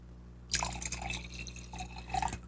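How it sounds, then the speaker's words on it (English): Rosé wine from Provence poured into a glass, a close, steady liquid trickle and splash starting after a short pause and running to the end, with no talk over it. "Pour myself some."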